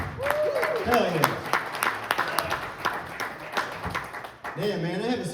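An audience at a stand-up comedy show in Dimondale, Michigan applauds a comedian, a broad wash of clapping and crowd noise that carries through, with a voice talking over it at the start and end.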